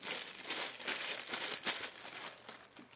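Packing paper crinkles and rustles as it is folded back into an iPad (32GB Wi-Fi) box, a close, busy run of crackling bursts with no talk.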